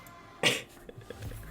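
A single sharp cough bursts out near the mic during a casual card game among friends, followed by faint room noise and small rustles.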